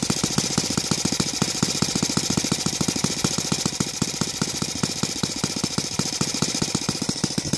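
A Saito FA-115 model airplane engine converted to CH ignition runs on a 20:1 gasoline mix with a regular glow carburetor and muffler pressure, firing in a steady, rapid, loud beat close by.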